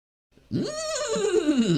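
A horse neighs after a brief silence, a close, clear whinny that starts high and slides downward as it fades, with no voices over it.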